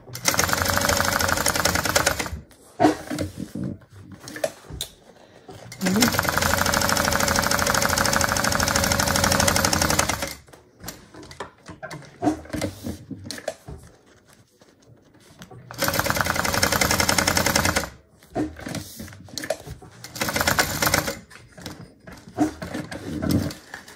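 A sewing machine runs in long fast bursts while basting foam onto a bag, pausing between runs with shorter stitching stretches and handling noise.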